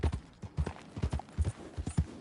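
Horse hooves clip-clop in the Red Dead Redemption video game, a brisk, regular run of sharp hoof knocks at a walking pace, close and clear with no talk.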